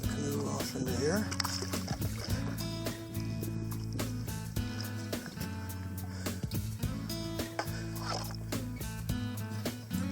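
A canoe paddled through water on a Boundary Waters lake route in autumn, with rhythmic splashes and sloshing strokes close by, mixed with a voice speaking over the paddling.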